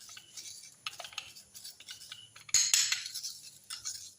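A spoon stirs and scrapes a ground tapai yeast remedy mixture in a bowl, with close metallic clinks and taps that sharpen and grow louder midway, and no voices.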